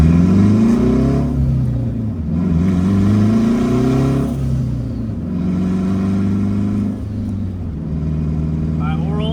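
Turbocharged K20-swapped Honda Civic making about 450 wheel horsepower, pulling hard in fourth gear with a loud, steady engine drone and rising harmonic sweeps from close inside the cabin.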